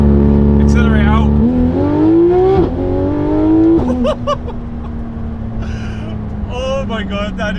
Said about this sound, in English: Let's try limiter and accelerate out.